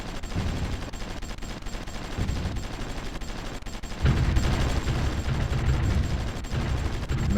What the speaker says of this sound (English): With enough artillery barrages, we should be able to push them back.